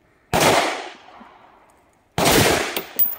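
A brand-new AR-15 rifle, run dry without oil, fires two loud, sharp shots about two seconds apart, each trailing off in a long echoing decay, with no voices.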